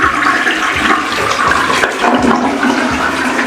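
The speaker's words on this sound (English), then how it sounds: "So if you see the WC, when you wave, it flushes." A sensor-activated toilet in a Cuban guesthouse bathroom flushes, a loud rushing gush of water swirling close by for a few seconds with no talk over it.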